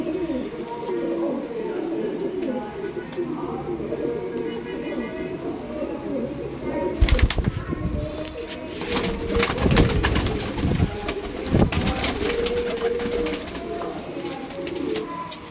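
Pigeons of the Malwai breed coo in soft, overlapping calls close by, with flapping and scuffling mixed in and a voice talking over them.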